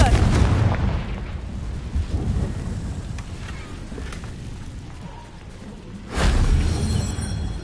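A Confringo fire spell from Hogwarts Legacy bursts in a loud, broad explosion near the end, over a steady rumbling, windy game background.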